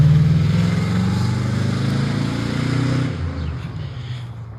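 A loud, steady low engine rumble of heavy vehicles rolling past nearby, easing slightly toward the end.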